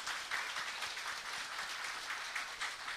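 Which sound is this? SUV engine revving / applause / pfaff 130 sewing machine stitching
applause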